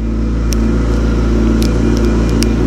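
A McLaren 650S Spider supercar with Liberty Walk modifications holds a loud, steady, deep engine roar very close by, with a constant low rumble and a few faint high crackles on top.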